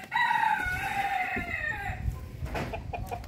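A rooster crows loudly and close by, a drawn-out harmonic call lasting about two seconds, while chickens cluck around it on a backyard farm.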